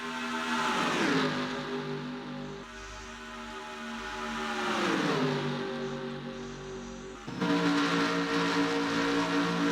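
Race car engines roar through gear changes during a Craftsman Cup racing game event at Auto Club. The high, buzzing revs climb, drop at each shift and climb again, loud and steady with no voices.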